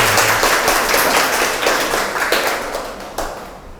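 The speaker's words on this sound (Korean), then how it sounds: "그럼 박수로 강연 들어보도록 하겠습니다." Audience applause welcoming a university science lecture in a hall, a dense, steady wash of many hands clapping close by, thinning slightly toward the end, with no voices over it.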